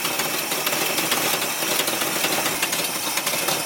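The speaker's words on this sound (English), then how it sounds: "Oh, major exhaust leak." An old squarebody Chevy truck, left sitting in a storage unit for years, idles with a major exhaust leak, giving a loud, steady, ragged rumble with a fast ticking puff and rattling vibration throughout.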